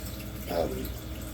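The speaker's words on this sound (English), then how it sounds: "So the water comes from the back there, falls down into this chamber" Water spills from the back of a Red Sea Reefer 625 tropical reef tank and falls down into a sump chamber, a steady close wash of splashing flow with a slightly louder surge midway.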